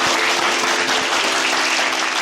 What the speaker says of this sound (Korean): 박수 주십시오.